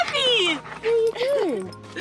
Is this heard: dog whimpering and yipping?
yes